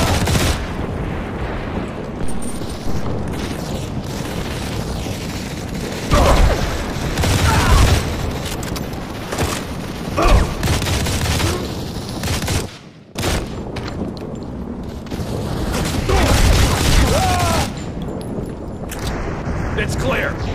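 Dense gunfire fills a Modern Combat 4 campaign battle, with sustained automatic fire and heavy booms over radio-style voices calling out.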